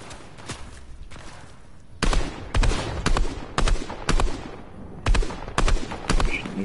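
Gunfire in a shooter video game: after a quieter stretch of scattered shots, loud bursts of rapid fire hit in repeated volleys, sharp and close, with no talk over them.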